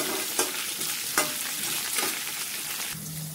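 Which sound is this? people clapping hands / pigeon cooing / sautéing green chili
sautéing green chili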